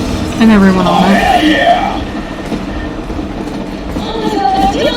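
A train rolls past in the post-apocalyptic shooter Metro Exodus, a loud rumbling rush that fades into a lower steady drone, with a voice talking over the start.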